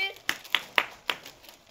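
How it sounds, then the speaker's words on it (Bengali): Several hands clap sparsely at a children's chips-and-bottle challenge game, four distinct claps spaced irregularly, faint and fairly close, with light background noise. "সবাই একটা হাততালি, জোরে জোরে হাততালি"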